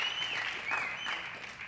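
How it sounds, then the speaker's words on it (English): Audience applause at a business conference main session, a steady wash of many hands clapping that holds through the short span without a break. "Y'all can clap for that."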